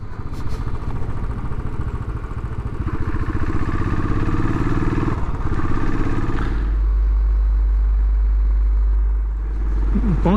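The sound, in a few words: Royal Enfield Classic 500 motorcycle riding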